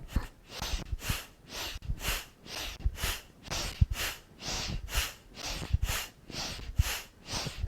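Deep, rhythmic breathing during an exercise session, with steady inhales and exhales repeating at a regular pace, close and fairly quiet.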